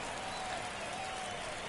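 Steady crowd cheering and applause fills the stadium in MLB The Show as designated hitter Jerry Jackson makes his entrance for the Red Sox, a continuous dense roar with no speech.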